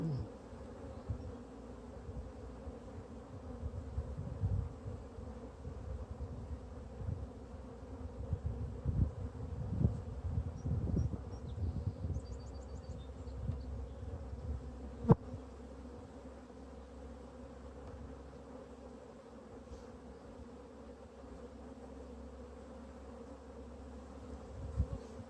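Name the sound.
honey bees in a hive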